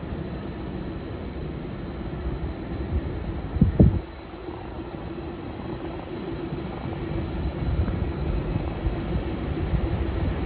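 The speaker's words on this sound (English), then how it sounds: "departing out over here is the 1605 Transport for Wales service from Penarth to Bargoed" A Transport for Wales Penarth to Bargoed service pulls out of Cardiff Queen Street station with a low, faint rumble, a brief sharp wheel squeal or clank near the start, and a gently rising engine drone.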